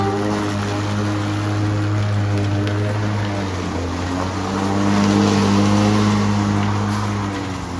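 A Ryobi brushless lawnmower runs steadily while cutting long grass, a continuous close motor drone with a strong low hum and a slight swell in load partway through, with no talk.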